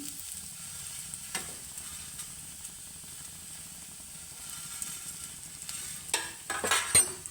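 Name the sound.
grated coconut roasting in oil in a Chinese wok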